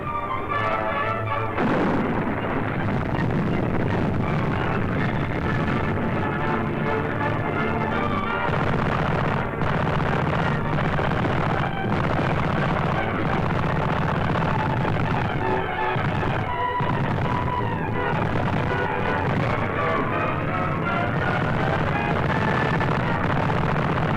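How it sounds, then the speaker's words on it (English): A 1943 WWII artillery barrage on the Canadian front, heavy booms and explosions rolling continuously and loudly throughout under a dense, dramatic newsreel soundtrack. "the enemy's resistance was broken by the merciless barrage"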